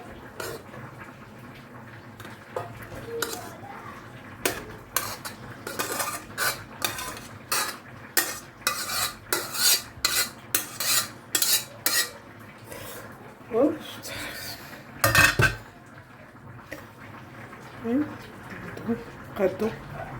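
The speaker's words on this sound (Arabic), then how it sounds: "هنا غادي نوضعو الكسكسو ديالنا القصريه ديال التقديم" Couscous is transferred into a serving dish, with a close run of scraping, tapping and clinking utensil strokes against the dish, sometimes in quick bursts, while a person speaks at points.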